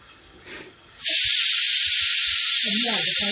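A pressure cooker bursts into a loud, sustained jet of steam after a quiet moment, hissing steadily and close with a faint voice murmuring underneath near the end.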